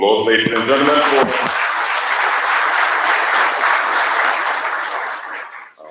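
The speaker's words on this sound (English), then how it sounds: "Another round of applause, ladies and gentlemen, for" A voice is speaking at first, then an audience at an ICT association event breaks into loud, sustained applause for the President of Zambia, holding steady for several seconds before fading away.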